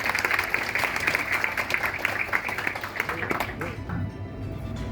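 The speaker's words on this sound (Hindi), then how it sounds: "आप सब लोग उनके लिए तालियां बजा दें।" A family gathering celebrates two brothers buying a Tata Tigor XZ+ car, answered by a steady burst of group clapping that fills the whole stretch, with voices mixed in underneath.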